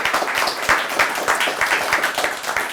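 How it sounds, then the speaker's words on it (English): A panel discussion audience applauds its panellists with a steady, dense wash of clapping hands, close and continuous with no voices over it. "can we have a round of applause for our panellists"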